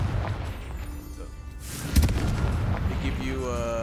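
A Confringo blasting spell explodes in the Hogwarts Legacy video game, a booming burst with rumbling tail amid game sound effects, while a player talks over it.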